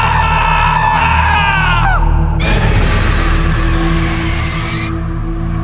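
A man's drawn-out, anguished scream used as a horror-story sound effect, loud and harsh over a droning, wind-like eerie background.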